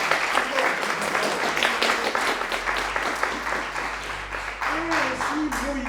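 An audience at a school graduation proclamation gives dense, sustained applause that fills the room, with murmuring voices audible beneath the clapping.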